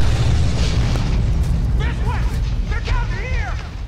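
Grenade explosions in the co-op video game Dead Space 3, deep booming blasts rumbling continuously under excited talk from several players.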